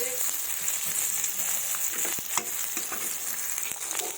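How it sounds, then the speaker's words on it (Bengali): Large pieces of a four-kilogram brigade fish fry in hot oil, a steady moderate sizzle with scattered pops and crackles close by, without talk. "মাছগুলো আমার লাল লাল করে ভাজা হয়ে গেছে"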